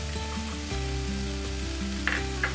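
Nuts sizzle and are stirred in a hot pan, a close, continuous frying hiss with a few light scraping clinks near the end, no voices.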